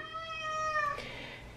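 A sick indoor pet cat meows once near the door, a long, clear, drawn-out cry close by, with no talking.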